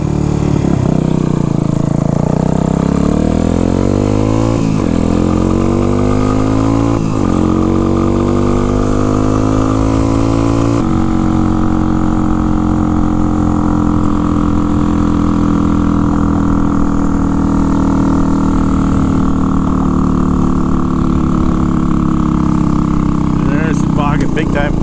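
A small Honda motorcycle engine revs unevenly and bogs down under throttle. The strained, sagging drone is loud and close, and the pitch keeps sweeping up and falling back.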